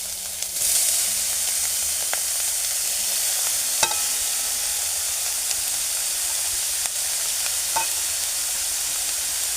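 Carrots frying in hot ghee with cardamom hiss in a steady, loud sizzle, with occasional clicks and scrapes of stirring in the pan.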